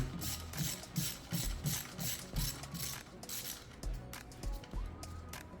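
Rapid ratchet clicking in repeated bursts as a screw is backed out of a 2020-2024 Ford Escape ST-Line 1.5L engine during a spark plug and coil job; close, steady mechanical clicks with short pauses between strokes.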